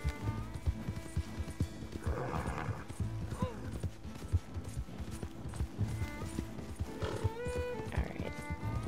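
Horse hooves clip-clop steadily during a ride in Red Dead Redemption 2, a continuous even gait along a trail with a neigh or two, while voices talk over the game sound.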